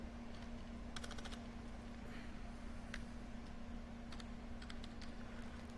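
Clicky keystrokes on an old USB computer keyboard hooked to a Fujitsu Q572 tablet during a CentOS 7 install, coming in scattered short bursts over a steady low electrical hum, fairly quiet and close, with no talking.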